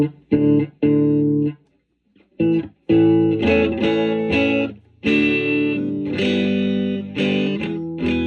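Distorted electric guitar played through a Fender '64 Vibroverb Custom amp set to break up, ringing out chords in short bursts separated by silent gaps, then sustaining longer strummed phrases toward the end.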